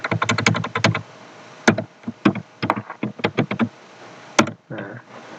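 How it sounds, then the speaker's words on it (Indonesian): Fingers type on a computer keyboard in quick bursts of close, crisp key clicks, pausing briefly between runs and ending with a heavier tap, with no voices. "Selanjutnya kita ketikkan"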